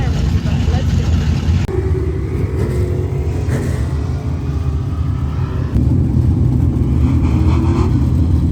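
A dirt track race car idles and revs at Camden Speedway before a heat race, a loud steady engine rumble with shifts in pitch as it builds, with a person talking over it.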